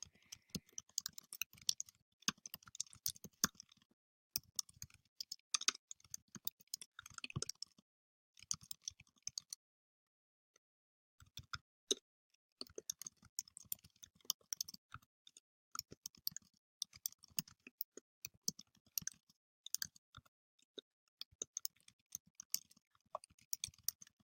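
Keys tapped on a computer keyboard in quick uneven bursts of light clicks, close and fairly faint, with a brief pause midway and no talk.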